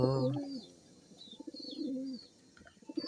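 Pigeons cooing in a loft, soft burbling coos rising and falling close by with a few faint chirps, heard under quiet background talk.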